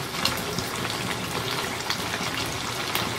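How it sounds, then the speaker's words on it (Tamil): Prawns frying in hot oil in a pan, a steady loud sizzle and crackle that holds through without pause and has no voices over it. "இப்போ வந்து எண்ணெய் நல்லா ஹீட் ஆகிடுச்சு, ஸ்லோ பண்ணிவிட்டு 1 piece பொரிச்சிடலாம்"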